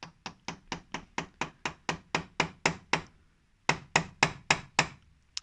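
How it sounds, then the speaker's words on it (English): Steady hammer blows on wood, about a dozen evenly spaced sharp strikes, a short pause, then five or six more, close and loud. "Where's my favourite hammer? Here it is."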